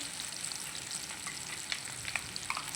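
Food sizzles in a pan in a short, close burst, with small scraping stirs over the constant frying hiss.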